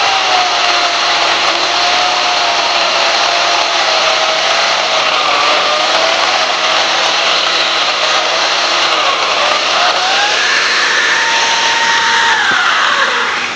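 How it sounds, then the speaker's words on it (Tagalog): A loud, steady electric chainsaw motor whine runs throughout with a shifting pitch as it cuts acerola cherry tree branches, rising near the end. "Kaya ginagamit ko itong chainsaw dahil wala pagod na ako."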